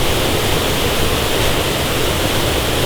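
Rushing water pours steadily, a loud, dense, unbroken wash of flow from a stream that sounds close and continuous with no voices over it.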